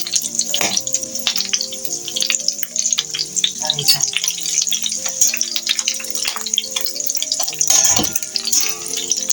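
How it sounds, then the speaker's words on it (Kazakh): Kazakh asip sausage, cooked the day before, frying in oil in a pan: steady, close crackling sizzle with sharp spitting pops throughout, and no talking. "әсібімді салып, қуырып аламын."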